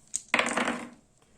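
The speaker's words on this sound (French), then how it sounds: "je vais lancer un jet de courtoisie. Donc j'ai 3 dés." A single short clatter of dice tumbling and settling on a tabletop, close and fairly quiet, lasting under a second.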